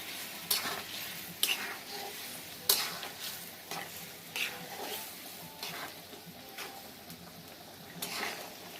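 Goat meat sizzles and fries in a pan while being stirred, with sharp scraping strokes at irregular intervals over a soft, constant sizzle.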